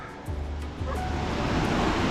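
A small, low waterfall near the Banaue rice terraces in the Philippines gives a continuous broadband rush of falling water, close and steady, slightly swelling in volume, with no talk over it.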